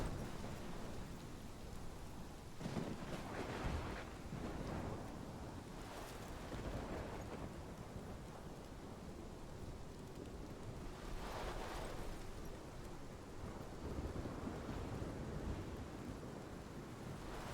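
Storm in the Life Is Strange Remastered game: steady roaring rain and wind wash with surging gusts, a broadband rumble throughout and brief swells that may be thunder.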